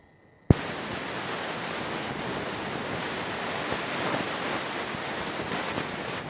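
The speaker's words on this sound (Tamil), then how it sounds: "இதை ஃப்ரை பண்ணி எடுக்க போகிறேன்." Chicken fingers fry in hot oil with a sudden loud sizzle as they drop in, then a steady, dense crackling hiss that continues evenly throughout, with no talking.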